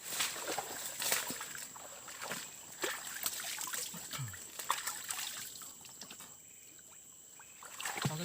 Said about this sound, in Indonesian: jadi kita menemukan anak sungai yang masih ada airnya nih guys